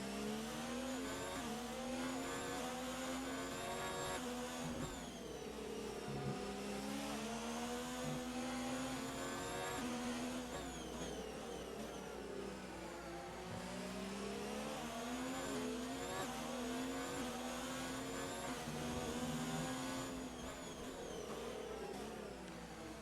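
Ferrari and Alfa Romeo racing cars in a video game at Bahrain's Sakhir circuit, with continuous high engine whine rising and falling as they accelerate and shift, loud and sustained with no voices.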